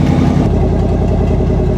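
A 1958 Chevrolet Apache truck engine runs loud and close with a steady, throbbing low idle pulse, a brief heavier rumble at the start before settling into an even beat.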